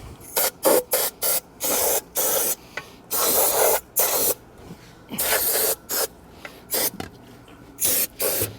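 Brake cleaner sprayed from an aerosol can onto the jaws of a B&W Companion fifth wheel hitch in a shop, heard as a series of sharp, close hissing bursts of varying length with short pauses between them.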